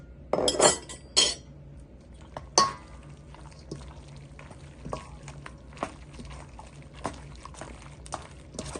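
Pasta tossed in a pan with parsley sauce, chili and parmesan, a few sharp metallic clinks of utensil on cookware, then softer scraping and wet stirring that continues intermittently.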